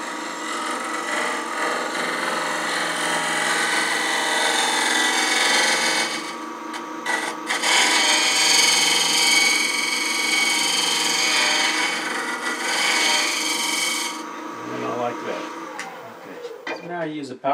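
Power sander working wood with a little sanding lubricant, a loud continuous abrasive whir with brief dips in pitch, then stopping near the end; a voice speaks over it.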